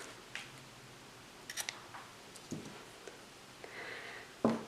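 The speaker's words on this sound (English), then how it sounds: "and then just cut that yarn." Scissors cut through knitting yarn in a quiet room: a few faint ticks and clicks, then one sharper snip at the end, with no voices.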